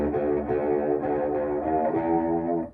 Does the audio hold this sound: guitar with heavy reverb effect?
yes